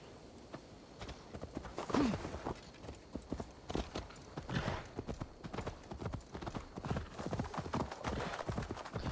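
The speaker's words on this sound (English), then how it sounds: "You can actually upgrade your horse now." Horse hooves clip-clopping at a steady quick pace in Assassin's Creed Valhalla, continuous rhythmic thuds throughout with a brief whinny early on and faint talk underneath.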